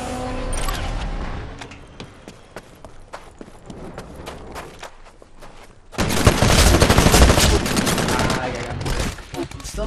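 Gunfire in Titanfall, scattered shots and footsteps at first, then from about six seconds a loud sustained burst of automatic fire with other battle noise, with speech mixed in.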